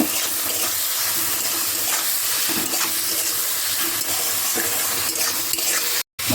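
Spice paste of ground turmeric, cumin, coriander, sugar, salt and a little water sizzles and gets stirred in a pan for egg and potato pulao. The steady frying hiss carries scraping strokes, with a brief dropout near the end.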